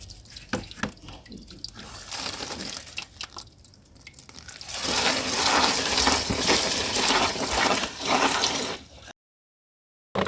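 Water splashes and trickles steadily onto damp paper in a bucket for a DIY vermicompost bin, rising to a fuller pouring rush before cutting off abruptly.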